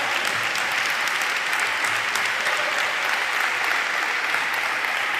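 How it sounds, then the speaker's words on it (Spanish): Steady applause from a church congregation during a sermon, a continuous wash of many hands clapping at moderate volume with no talk over it. "Dele fuerte el aplauso al Señor"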